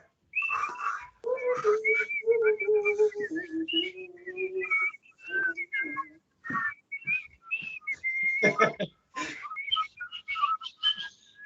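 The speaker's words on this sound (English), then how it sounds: "We're walking to the beach and maybe whistling as well. So do a bit of a whistling." Several people whistle a cheerful, wandering tune together in short overlapping phrases with brief gaps between them.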